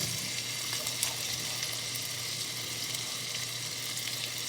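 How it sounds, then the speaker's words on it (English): Potatoes fry in a pan for potato soup with a steady close sizzle and crackle, interrupted by a few brief pops and light stirring sounds. "You just want to fry these up for, I don't know, 5 or 6 minutes till they're golden brown"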